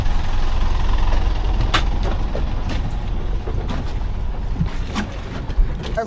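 A sailboat engine runs while the boat motors to moorings off Grand Case. The drone is loud and steady, mixed with wind buffeting the microphone and the rush of water, and a few sharp knocks and clanks sit on top.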